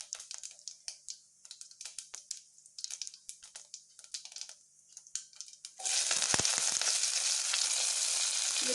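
Chopped onion, garlic and curry leaves hit hot oil with popped cumin seeds while cooking potato vermicelli cutlets, turning light clicks and crackles into a loud, steady sizzle close by with no talk.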